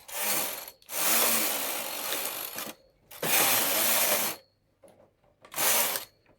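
A knitting machine carriage is pushed across the bed four times, knitting rows of ash-colored yarn at tension 6, each pass a rasping, whirring sweep of about a second or more, separated by short quiet gaps.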